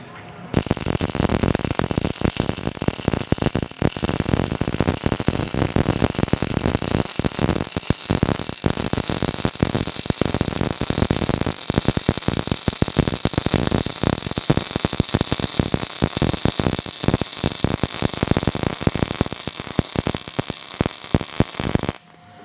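An ESAB Rebel EMP215ic welder running weld beads produces a steady, loud crackling buzz like frying static, continuous for about twenty seconds with no pauses and no voices.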